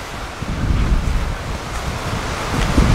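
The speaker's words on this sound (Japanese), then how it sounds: "波来た、波来た、波来た、波来た。" Ocean surf washes onto a beach in Okinawa, a loud, steady roar with wind buffeting the microphone and no voices.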